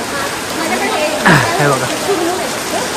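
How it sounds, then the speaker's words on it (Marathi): Heavy rain pours steadily in foggy hill-station weather at Matheran, a dense broadband wash that lasts throughout, while a nearby voice talks briefly over it. "आता मस्त जोरात पाऊस चालू झालाय."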